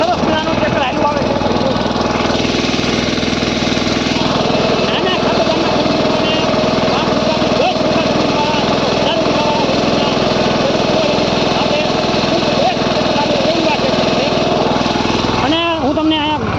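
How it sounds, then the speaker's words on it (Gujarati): Nano tractor engine running in a groundnut field, a steady loud mechanical drone holding close throughout, with a brief shift near the end. "કોઈ સરસ મજાનું ટ્રેક્ટર હાલ્યું આવે છે"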